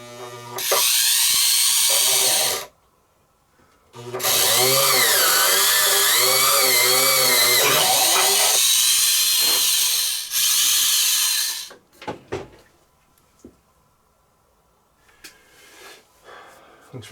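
Power drill boring holes into a boat transom during a Blazer Backlash build, two long loud whirring bursts broken by a short pause and a brief third run, then scattered clicks and handling noises.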